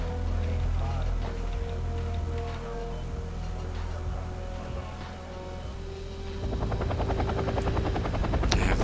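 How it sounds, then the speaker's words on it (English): Rotor thump of an unarmed helicopter flying in the war strategy game Wargame: European Escalation, a steady loud drone throughout with ticking game effects, growing heavier near the end. "This unarmed helicopter flying around, seeing what I can do with it."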